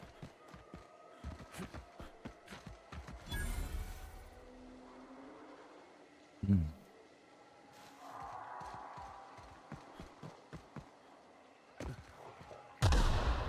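Explosions and gunfire from a grenade launcher in The Outer Worlds, with sharp booming blasts and scattered shots over a steady game backdrop, including a heavy burst near the end.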